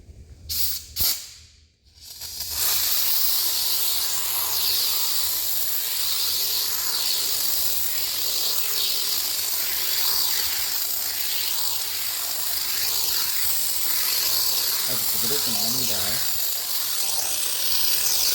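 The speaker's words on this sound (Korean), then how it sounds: "제가 한번 그 스프레이 전용 폼으로 한번 분사를 한번 해보겠습니다" Polyurethane foam sprayed from a SOLVEX foam gun: after a few short spurts comes a long, steady, loud hiss of continuous spraying that lasts many seconds, close up and with no talk.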